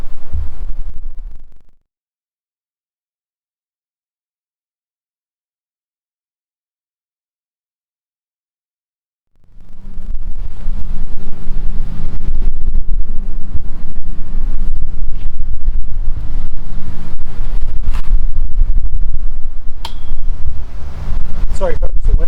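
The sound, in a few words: wind blowing into the microphone outdoors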